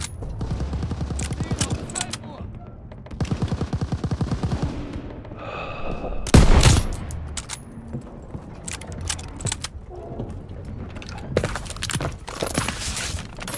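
Battlefield gunfire in Call of Duty WW2 during Operation Cobra: rapid automatic bursts and single sharp shots rattle loudly and close, with one heavy blast midway and brief shouted voices between volleys.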